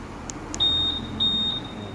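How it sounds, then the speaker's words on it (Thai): A Honda PCX160 scooter's locator alert answers a remote press with two short chirps and then two longer, thin electronic beeps, close and clear. "วิธีเปิดปิด เสียงสัญญาณแจ้งเตือนตำแหน่งรถนะครับ"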